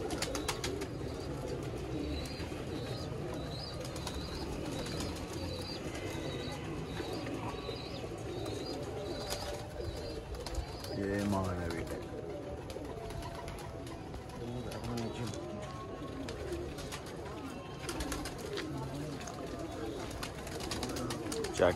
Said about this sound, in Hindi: कबूतर ठापे छापे लगा रहे हैं,